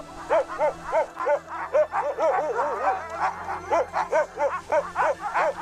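A team of sled dogs on a trip across a lakeland region barks, yips and whines without a break, the dogs eager to set off again. The excited, overlapping calls come from close by and fill the whole stretch.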